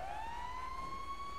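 A fire truck siren in GTA V wails close by in a steady rising tone over a low engine rumble, with no talk.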